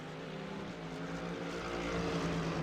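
A Mercedes racing car at a World Challenge round at Hockenheim howls past with a sustained, rising engine drone, heard from a distance and growing louder over a couple of seconds.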